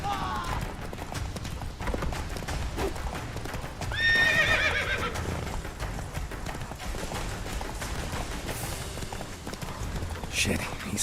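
In the Witcher 3 video game, a horse gallops with steady clip-clop hoofbeats under game music and sound effects, and a loud neigh rises partway through.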